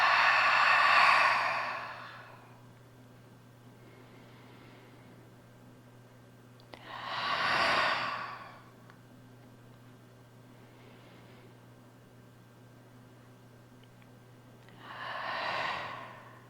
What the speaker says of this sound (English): Just audibly hear your breath